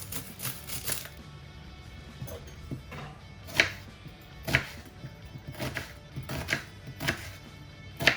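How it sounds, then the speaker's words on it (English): A knife chops onions on a board, with a run of sharp, irregular taps close by at a moderate level over a low background hum. "I'm just going to chop our onions."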